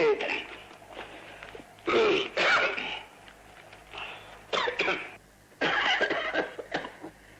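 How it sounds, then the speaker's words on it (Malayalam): A person coughs in several harsh, separated bursts with quieter stretches of breathing and murmured voice between them. "എനിക്ക് 2 ദിവസമായിട്ട് നല്ല ചുമ"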